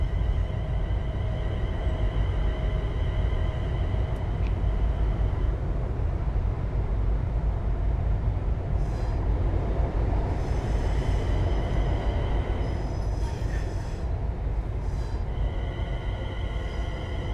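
Class 380 electric train in Train Sim World 4 on the Cathcart Circle, accelerating steadily with a constant low rumble and whine, faint tonal hums and intermittent higher squeals over an unbroken loud drone.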